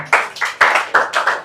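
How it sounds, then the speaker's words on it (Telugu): Audience clapping at a club event held at a high school, several bursts of hand claps in quick succession, fairly loud and close, with no talking over them. "ఒకసారి క్లాప్స్ కొట్టండి"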